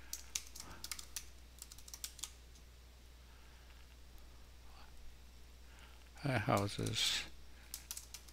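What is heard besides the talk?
typing on a computer keyboard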